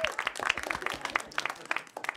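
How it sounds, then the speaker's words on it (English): A comedy club audience claps along on request during a stand-up set, a brief patter of scattered, fairly quiet hand claps with some crowd murmur. "Give me a hand. Clap like this."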